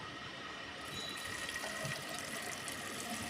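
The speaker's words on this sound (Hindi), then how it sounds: "पानी भरा जा रहा है मैनुअली।" Water is poured by hand into a PVC pipe being prepared for a hydrostatic pressure test: a steady, quiet rushing and splashing fills the whole span without pause, with no voices.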